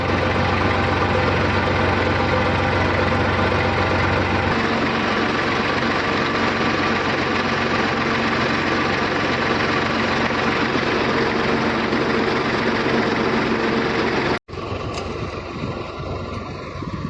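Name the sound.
tractor engine starting and idling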